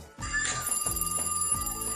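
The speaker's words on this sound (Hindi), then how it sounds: "अरे देखो तो ये दूध वाली का फोन आ रहा है" A telephone rings in repeated melodic ringtone bursts, clear and close, over a low steady hum, with no one speaking.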